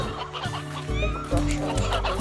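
Chickens cluck in the Slime Rancher video game, a steady busy run of clucking with music and other game sounds underneath.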